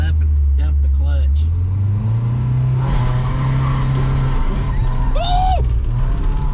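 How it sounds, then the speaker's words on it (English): A 1992 Toyota pickup's engine rises into a loud rev and surges as the clutch is dumped for a burnout, a steady roar climbing in pitch, with voices talking and shouting over it. "what happened if we were to rev this up and dump the clutch?"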